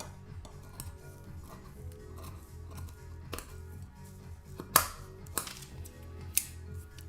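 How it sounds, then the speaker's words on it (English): Scissors cut through embroidered fabric with a few crisp, close snips that stand out from a quiet room background, most of them in the second half. "I love the sound of scissors."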